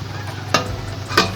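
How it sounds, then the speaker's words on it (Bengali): Cauliflower florets dropped into water in a wok, two short bright splashing clatters over a low steady bubbling background, no voices. "কড়াতে জল দিয়ে দিয়েছি, এবার ফুলকপিগুলো সব দিয়ে দিলাম।"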